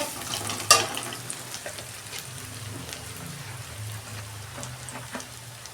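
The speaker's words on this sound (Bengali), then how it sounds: "ভালো করে আমি 2 মিনিট কষাবো।" Ginger garlic paste sautés in a pan with a soft, steady sizzle and occasional spoon scrapes as it is stirred, one sharper clatter early on, all fairly close and without talk.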